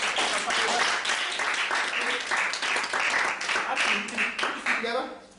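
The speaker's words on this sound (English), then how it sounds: "Give a round of applause" Dense, steady applause from a stage hypnosis show audience, with scattered cheers and voices mixed in, fading toward the end.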